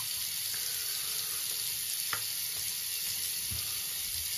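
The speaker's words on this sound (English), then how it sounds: "Let's rinse off here." Tap water running into a bathroom sink while rinsing off after a wet shave with soap, a constant close hiss and splash with a couple of faint clinks, no speech.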